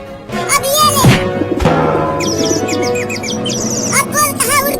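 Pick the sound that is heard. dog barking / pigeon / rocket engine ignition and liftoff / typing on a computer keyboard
pigeon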